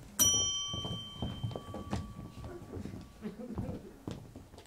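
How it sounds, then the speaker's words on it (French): A servant's bell rings once on a theatre stage during a French play, a sharp bright ding with a long sustained ringing tone that fades slowly beneath continuous dialogue and stage movement. "Installons-nous, je vais sonner Firmin."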